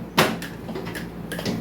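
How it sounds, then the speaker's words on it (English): The cover of a 10000 VA AC voltage regulator swings open like a small door, giving a sharp clack followed by softer rattles and scraping of the metal panel, close up and without speech. "So I will open the cover."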